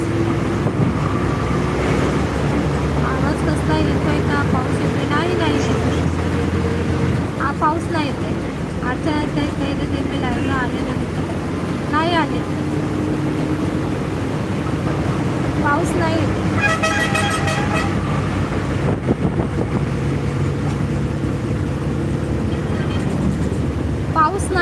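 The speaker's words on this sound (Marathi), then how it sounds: "गाड्यांचा आवाज येतो" Busy road traffic drones steadily, with several horn toots cutting through and voices talking over the constant engine noise.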